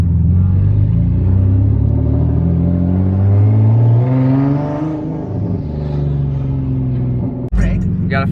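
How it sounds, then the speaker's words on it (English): A single-turbo Nissan 370Z revs loud and close, the engine note rising and falling while the turbo spools with a whistling whine, ending in a sharp blow-off burst near the end. "The turbo spool sounds sick."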